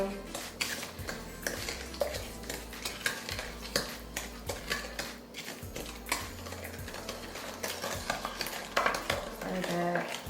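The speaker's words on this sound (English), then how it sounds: "Mix this really well" A spoon stirs eggs into a thick oatmeal cranberry walnut cookie batter in a bowl, making repeated close scraping and clicking strokes in an uneven rhythm, with no talking.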